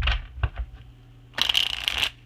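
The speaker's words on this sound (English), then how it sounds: "Riffle shuffle" Theory11 playing cards get a riffle shuffle, a few soft taps followed by a fast, crisp burst of fluttering card clicks lasting under a second, close and alone.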